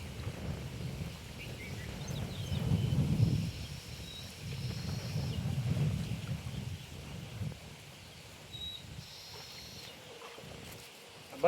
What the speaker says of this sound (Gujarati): જો આ ટ્રેક્ટર વાવે છે.